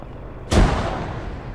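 A grenade goes off in the military shooter ArmA 3: one sharp, loud detonation breaks a quiet moment, then a rumbling tail slowly fades.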